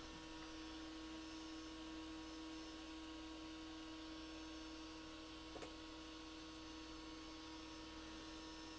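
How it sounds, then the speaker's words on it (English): A 3D printer pushes filament through its heated nozzle, giving a faint steady mechanical hum with a constant tone and one brief click partway through. "we're going to go ahead and tell it to extrude about 10 millimeters worth of filament"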